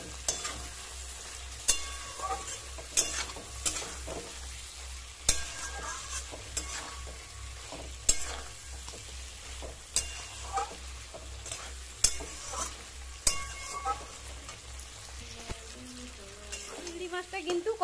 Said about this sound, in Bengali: এখন আমি দেব চিংড়ি মাছগুলো। মাছ দিয়ে আমি কিছুক্ষণ নাড়তে থাকবো।